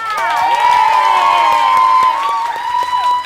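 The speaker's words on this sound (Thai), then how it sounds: "แล้วก็ขอเสียงปรบมือดังๆให้กับพี่นิวพี่จิ๋วด้วยค่ะ" A Thai live-show audience greets singers New and Jiew with loud, sustained cheering and shrill, pitched shrieks, with only light clapping mixed in.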